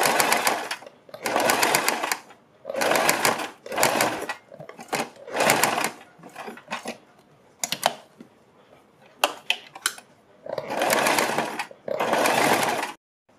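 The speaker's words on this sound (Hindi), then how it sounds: "और तब इसके ऊपर सिलाई लगाएंगे।" A sewing machine stitching a kurti neckline runs in short bursts of a second or so, separated by pauses, with clicks and fabric handling between the runs.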